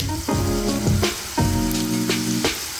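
Onions and curry leaves fry in a pan for a dry fish curry, giving a steady hiss and sizzle with a few soft stirring bumps, partly covered by tonal background music.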